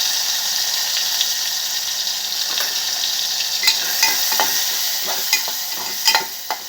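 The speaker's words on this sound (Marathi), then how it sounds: "मिरची चांगली हलवून घ्यायची म्हणजे सेंट लागते मिरचीचा" Chili and tomato being stirred and fried in a pan on an Indian home stove, a steady loud sizzle with the scrape and clack of a spoon against the pan rising through the latter half.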